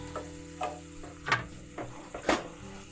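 Jalapeño, habanero and onion fry over medium-high heat with a soft, steady sizzle, broken by a few light stirring clicks and scrapes of a utensil against the pan. The sounds are faint, and there is no talking.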